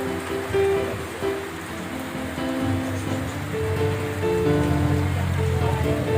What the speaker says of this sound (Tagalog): So tuloy-tuloy po ang ulan mga kalingap.